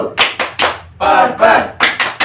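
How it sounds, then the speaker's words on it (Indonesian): A group claps out a rhythmic 'tepuk super' chant pattern during a family development training session: several sharp clap bursts in a syncopated sequence, with a brief chanted stretch in the middle, loud and close. "Ayo kita lakukan tepuk super"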